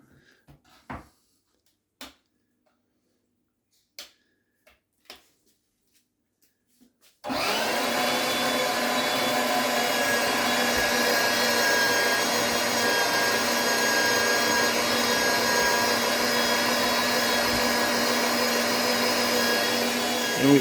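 An electric meat grinder processes raw dog food for a Kangal, starting abruptly after a few scattered knocks and then running as a steady, loud, continuous motor whir that holds to the end.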